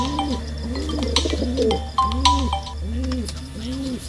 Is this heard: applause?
no